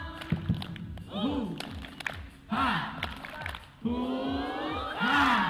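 A group at an outbound team-building event performs a rhythmic 'tepuk semangat' chant, sharp claps falling in a regular beat among chanting voices, fairly quiet and a little distant.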